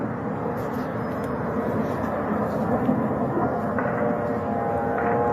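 A military drone flying overhead makes a loud, steady engine drone that fills the whole stretch with dense broadband roar, holding constant without any break.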